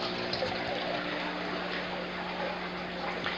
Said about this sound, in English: Now as the water from the tank flows into my sump, it rises above my siphon level right there, my overflow level.